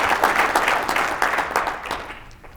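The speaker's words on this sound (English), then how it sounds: "Can you give yourselves a round of applause?" A crowd applauds with dense, steady clapping that gradually fades toward the end.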